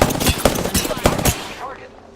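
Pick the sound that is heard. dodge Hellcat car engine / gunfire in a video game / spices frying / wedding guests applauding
gunfire in a video game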